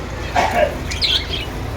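Budgerigars in a pet shop give a couple of short, sharp chirps and squawks over a steady background hum of the shop.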